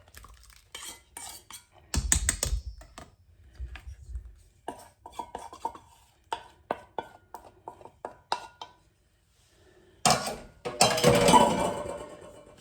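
A spoon or utensil stirring wet ingredients into dry cornbread muffin batter in a bowl, with sharp clatters and knocks against the bowl in irregular bursts, loud clanging toward the end, no talking.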